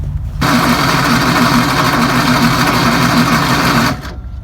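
A Greyhound bus engine, sprayed with starting fluid, roars up abruptly and keeps up a loud, steady rumbling drone for about three and a half seconds, then cuts off sharply, with no talk over it.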